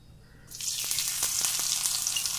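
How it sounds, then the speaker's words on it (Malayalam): Cleaned, washed dried fish dropped into hot oil, a sudden loud sizzle bursting in after a quiet start and holding steady with crackling pops. "നമുക്ക് എണ്ണയിലേക്കിട്ട് വറുത്ത് കോരണം"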